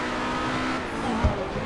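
A car pulling away along a residential street, a steady engine and road drone that holds level for the whole moment, with a short bump near the end.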